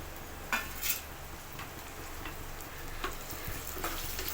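Tomatoes and soy chunks fry in a pan, a steady low sizzle running throughout, broken by a few sharp clinks and scrapes of a utensil against the pan.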